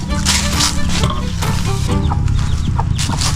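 Hens with their chicks cluck in a small backyard chicken coop, dense close clucking and peeping calls running continuously with some rustling beneath.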